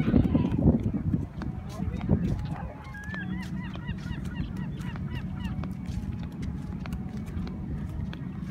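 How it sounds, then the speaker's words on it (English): A flock of gulls calls repeatedly in the distance, short cries overlapping against steady outdoor rumble, with voices talking briefly at the start. "That's a lot of seagulls."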